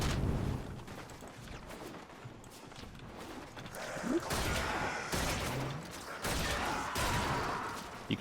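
Vectis Prime sniper rifle in a video game blind firing at a horde of enemies, a run of sharp shots with bursts of impact noise layered over busy combat sounds.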